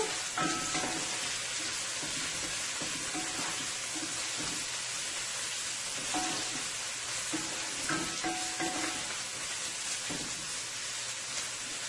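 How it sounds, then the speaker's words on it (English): Cabbage, carrot and chicken stir fry sizzling hard in a pot, a dense steady crackle and hiss with occasional stirring clatter, no voices. "Gonna let this fry for about a minute and a half."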